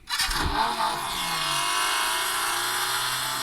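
A synthetic car engine starts and revs up, then settles into a steady loud drone, played as a custom sound effect through the REDMAGIC 10S Pro gaming phone's cooler.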